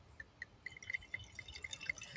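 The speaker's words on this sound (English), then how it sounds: "Let's pour this. Let's listen." Box wine, a Riesling or Pinot Grigio, is poured into a glass beside a pool, giving quiet, uneven trickles and drips with bright glassy plinks close up.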